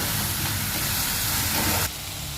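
Spice masala with black pepper sizzles in a pan for a Bengali broccoli dish, a steady close hiss that drops off abruptly near the end.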